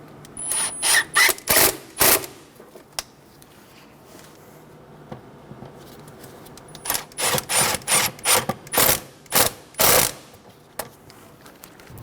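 Hose clamps on a Toyota Tacoma 2.7L intake tube are tightened near the throttle body, a close series of sharp ratcheting clicks in two bursts separated by a quieter pause, with no talking.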